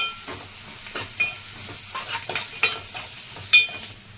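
Chopped onions and curry leaves fry in a pan for a gongura egg curry. A low sizzle runs under repeated scraping stirs and light spoon taps on the pan, with one louder clack near the end and no talking.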